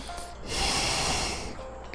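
A single deep, audible breath drawn in just before singing a Latin hymn, rising over about a second into a loud, airy intake close to the microphone, then fading out.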